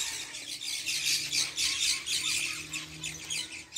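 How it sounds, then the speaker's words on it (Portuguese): Small birds chirp and squawk outdoors in the countryside, a continuous busy chatter of bright calls at a moderate distance with a low background hum and no talking. "Olha os passarinhos."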